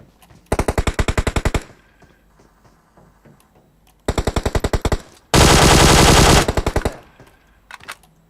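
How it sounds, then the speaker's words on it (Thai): Automatic gunfire in PUBG Mobile: two loud bursts of evenly spaced rapid shots, then a longer dense roaring burst trailing into a few more rounds, close and dominant. "ฝั่งไหนยิงผมเนี่ย"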